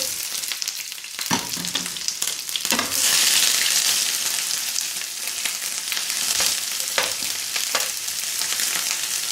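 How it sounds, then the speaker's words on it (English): Sliced onion sizzles and crackles steadily in a tablespoon of neutral oil in a hot pan, a loud close frying hiss broken by several stirring scrapes, with no talking. "we'll go in with some neutral oil here. A tablespoon or so in our hot pan. Then we'll go in with our sliced onion."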